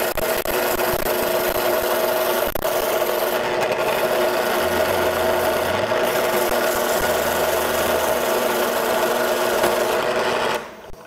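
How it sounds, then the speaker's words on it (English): The outside of a wooden clock piece is sanded on a Ring Master lathe-style cutter, giving a continuous, even rasping hum with a steady motor tone throughout, ending abruptly. "we're going to sand this on the outside"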